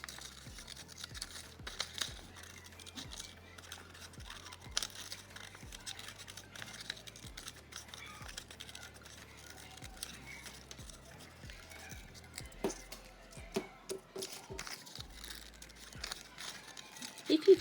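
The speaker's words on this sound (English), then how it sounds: "After drawing my poppies, I now need to cut them carefully out." Scissors snipping out paper poppy shapes for a children's collage: quiet, irregular crisp snips and paper rustles, close by over a low steady hum.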